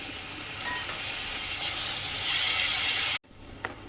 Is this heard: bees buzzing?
no